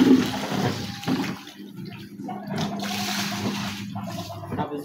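Water drains from and refills a small pool set up for chicks, rushing and trickling steadily throughout with no voices.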